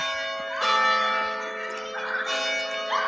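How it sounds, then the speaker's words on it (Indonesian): The church bell of the Evangelische Schlosskirche rings its quarter-hour strike, a clear, resonant peal with rich ringing overtones that sustains steadily and swells again near the end. "Loncengnya lagi bunyi deh."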